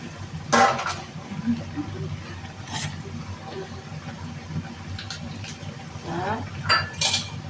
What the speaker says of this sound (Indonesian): kita aduk-aduk dulu biar ininya matang